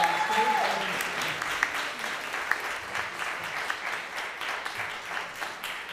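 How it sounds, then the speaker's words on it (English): Audience applause fills a church Christmas concert for the performers on stage, a steady dense clapping that holds evenly from start to finish with a few sharper claps standing out. "I have to give it one more round of applause for all the performers up here on the stage."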